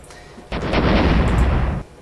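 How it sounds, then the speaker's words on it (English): A loud explosion sound effect from a tabletop roleplaying session, a sudden broadband blast that holds a dense roaring rumble for over a second before cutting off, standing alone without speech. "A nice explosion effect."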